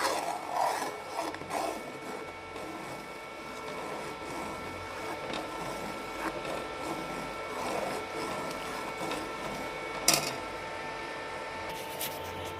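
A two-ingredient ice cream mixture is mixed continuously, producing a steady, moderately quiet mechanical churning and rubbing texture with one sharp clack near the end.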